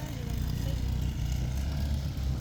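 Motorcycle near a La Union beach resort, heard as a low, steady engine rumble that stays fairly constant throughout outdoors.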